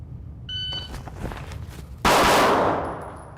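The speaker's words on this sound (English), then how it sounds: "This time I'll shoot 2 shots." Pistol fire from a handgun fitted with a Vortex Defender red dot during a live-fire drill: a short timer beep, then a loud, sharp burst of gunfire ringing out and decaying over about half a second.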